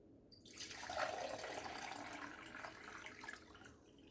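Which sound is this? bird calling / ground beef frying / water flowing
water flowing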